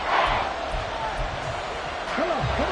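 Football stadium crowd at fever pitch during a Detroit versus Houston game, a dense roar of fans with a commentator talking over it.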